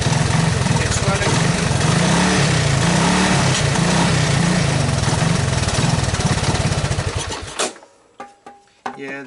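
A 1985 Honda ATC200S ATV engine with clogged idle jets runs loud and steady, refusing to settle to idle, then cuts off abruptly near the end, leaving a few faint clicks and knocks.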